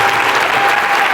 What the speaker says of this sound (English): Round of applause for APRA